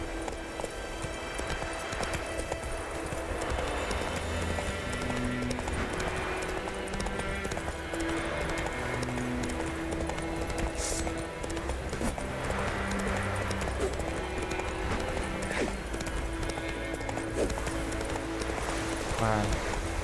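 Horse hooves clip-clop at a steady galloping rhythm in The Witcher 3, running continuously under game music and ambience at moderate loudness.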